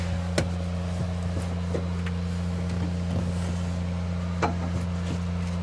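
Small engine on hard rock gold mining equipment idling steadily, a constant low hum with a strong steady tone and occasional sharp knocks and clicks over the top, no speech.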